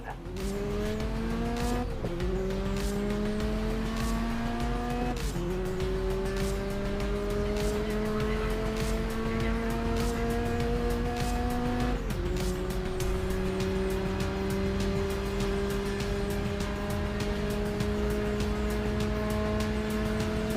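A race car in the GRID Legends video game runs at high revs, its engine whine climbing through gears with brief dips and shifts under braking, loud and continuous with occasional tyre and collision noises.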